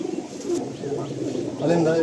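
Domestic fantail pigeons coo in a home loft. Throaty calls rise and fall steadily nearby and swell louder near the end, with a person's voice faintly mixed in.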